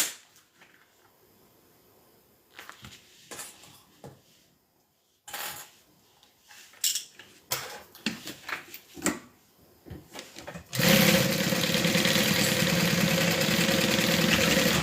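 A sewing machine runs top stitching on a custom-order piece, first a few scattered knocks and clicks as the work is positioned, then a loud, steady motor whir from about eleven seconds to the end.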